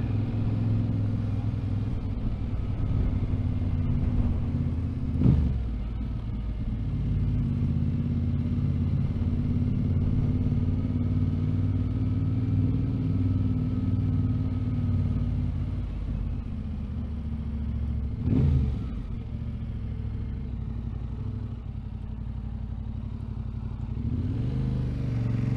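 T7 vehicle driving along a road near Dolgellau, a steady low engine and road rumble throughout with two brief louder knocks, heard from inside with no talking.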